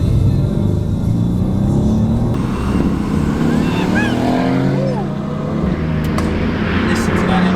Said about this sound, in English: Listen to that engine, it's something,